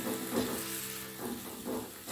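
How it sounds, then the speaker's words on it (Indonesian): Water spinach sizzles steadily as it is stir-fried in a pan, a close, continuous frying hiss with faint stirring scrapes and no talking. "kita tumis sampai matang"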